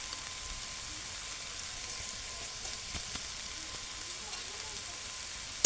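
Kohlrabi with sugar and garam masala frying in a pan, a steady soft sizzle running throughout with faint stirring scrapes and a brief clatter at the very end.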